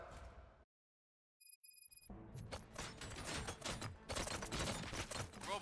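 Gunfire in the video game RoboCop: Rogue City, where a near-silent gap with a few electronic beeps gives way to dense bursts of sharp shots and crashing impacts that build into a loud, continuous barrage.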